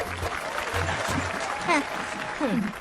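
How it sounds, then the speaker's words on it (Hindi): Scattered clapping rises from a gathered crowd in a Hindi-dubbed South Indian film scene, mixed with low rumbling bursts and brief bird-like chirps, with voices murmuring beneath. "तालियां बजाओ"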